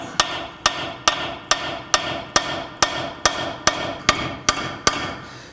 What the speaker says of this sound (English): you can take a hammer and knock this up.